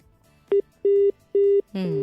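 Electronic phone-line tones beep on a Nigerian FM radio call-in line, one short beep followed by two longer steady ones, loud and close, with a fourth tone blurred by a voice.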